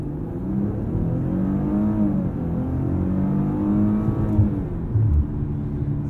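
2020 Maserati Quattroporte S with traction control off accelerating hard from inside the cabin: a deep engine note rises through the gears with brief shift dips, loud and steady with no talk.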